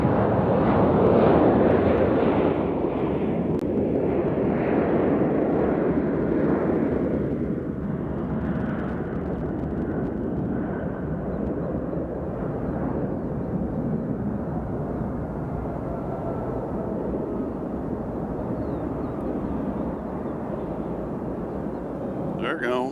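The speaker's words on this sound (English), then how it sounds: "This next departure is going to Panama City." An airliner departing Nashville International Airport for Panama City roars on takeoff, a broad rumbling jet noise heard from a distance that slowly fades as it climbs away, with a voice talking over it.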